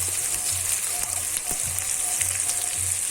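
Ginger-garlic paste fries in a pan with a loud, close, continuous sizzle, and a spoon scrapes and stirs at a fairly regular beat.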